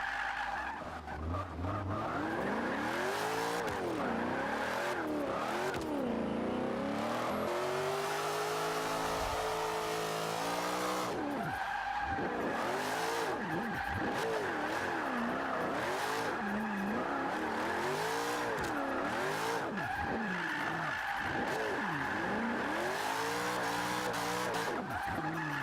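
Nissan Fairlady Z rear-wheel-drive drift build in Forza 5, engine wailing and swooping through revs with sustained tyre squeal as it slides around the track, loud and continuous throughout.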